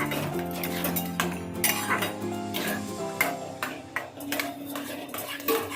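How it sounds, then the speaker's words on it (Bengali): Semolina being stirred in a pan until it forms a dough, heard as repeated clinks and scrapes of a utensil against the pan over background music. "এরকম নাড়তে নাড়তে একটা ডো মতো তৈরি হয়ে যাবে।"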